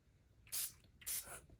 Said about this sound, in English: So here's what I do. I go ahead and spray.